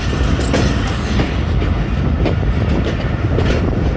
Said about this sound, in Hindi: गुजर खान रेलवे स्टेशन पे अप्रोच बना रही है 40 डाउन जाफर एक्सप्रेस